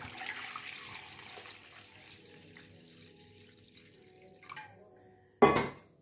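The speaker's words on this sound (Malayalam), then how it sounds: "ഒരു പാത്രം എടുത്ത് വെക്കുന്നു അതിലേക്ക് കുറച്ച് വെള്ളം അങ്ങ് ഒഴിച്ചു കൊടുക്കുന്നു" Quiet kitchen background, then a sudden burst of water splashing and pouring into a container, loud and close, tapering off after a second.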